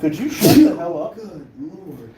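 A single sharp sneeze bursts out near the mic, and a voice talks clearly both just before it and after it.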